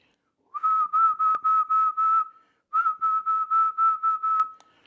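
A person whistles a steady single tone into a handheld radio microphone, held in two bursts of rapid pulses, loud and close, with a short gap between them, while checking SWR on a budget 10-meter ham radio.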